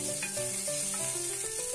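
Curry leaves sizzle and crackle in hot oil on a tawa, a close, continuous frying hiss with faint tonal background sounds and no speech.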